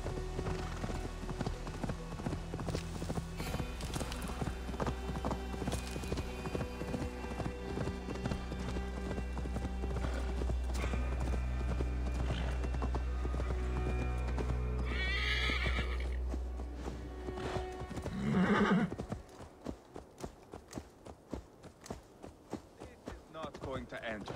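Steady clip-clop of hooves over a constant musical and ambient soundscape in the video game Assassin's Creed Valhalla, with a loud horse whinny near the end, then quieter rustling.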